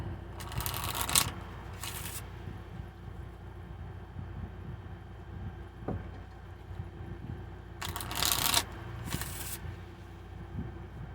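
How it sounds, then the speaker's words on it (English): Cards are shuffled in two bursts of crisp riffling, each a few quick flutters, with quiet room noise between them. "Just going to keep shuffling them until they're good."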